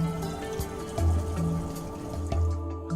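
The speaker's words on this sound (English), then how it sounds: "Correctly measure the required quantity of cleaning agent and pour it into the clean water tank." Cleaning agent splashes and trickles into the clean water tank of a Scrubmaster B120R scrubber, close and fairly quiet, with brief low pouring gurgles repeating.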